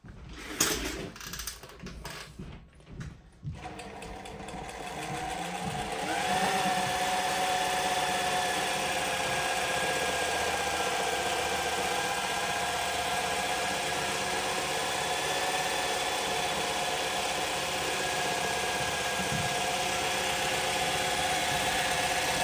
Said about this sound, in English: This is the freehand Irish embroidery machine. Now I'll show you how machine works.